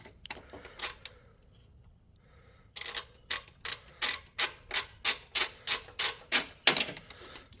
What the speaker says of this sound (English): I am in the process of taking this bolt out